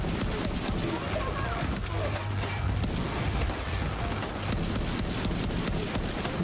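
Rapid bursts of gunfire from the shooter video game The Division 2 crackle continuously at close range, dense and loud throughout, with a player talking over the action.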